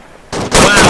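Gunfire in the Arma 3 video game, a sudden loud blast followed by a second heavier burst within a second, harsh and close.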